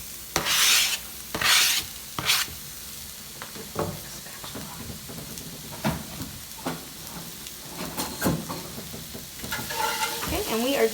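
Tofu scramble with onions cooking in a pan, stirred with a utensil that scrapes and rasps against the surface over a soft sizzle, with louder bursts early on and intermittent scrapes throughout, close by.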